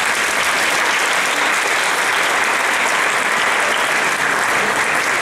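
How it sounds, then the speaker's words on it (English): Audience applause for a school speech and debate team at a fall speech night, a dense, steady roar of many hands clapping with no pauses. "let's give them big rounds of applause"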